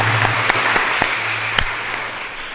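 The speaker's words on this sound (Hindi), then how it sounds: "ताली बजाओ सारे।" An audience at a spiritual discourse by a swami claps briefly, scattered sharp hand claps over a soft room murmur and a low hum, thinning out after a couple of seconds.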